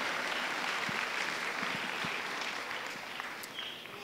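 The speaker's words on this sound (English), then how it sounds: "how about another round of applause for Symba?" An audience at a startup pitch competition gives a round of applause after a presentation: steady, dense clapping from a sizable crowd that tapers slightly toward the end.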